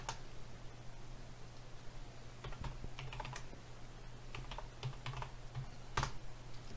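Quiet typing on a computer keyboard, with scattered clusters of soft key clicks and taps at close range over a low steady hum, to recreate a videos folder.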